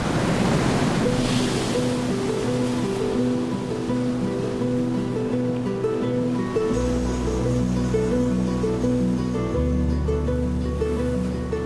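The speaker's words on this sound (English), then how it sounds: "Lying alongside the city of Chan Chan is the mighty Pacific Ocean." Pacific Ocean surf breaks along the coast beside the ruined adobe city of Chan Chan, a loud steady wash of crashing waves with a low tonal music bed underneath.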